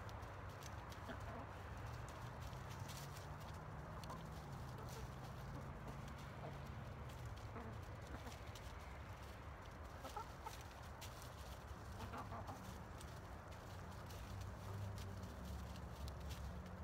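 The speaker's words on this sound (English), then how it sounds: "What do you think here, chickens?" Chickens cluck steadily while pecking at deer corn in a yard, a dense, continuous flock chatter with a low rumble underneath and no talking.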